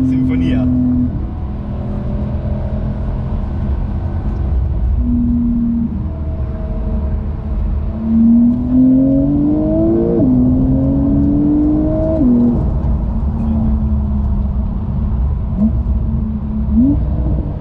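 A 2019 Porsche 911 Carrera S engine drones steadily inside the cabin with the exhaust open, rising in pitch as it revs up a few times, with a person talking over it.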